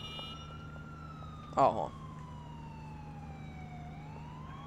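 A police siren in GTA 4 wails steadily in the background with a slow rising and falling pitch, faint and continuous under game ambience, with a brief spoken interjection partway through.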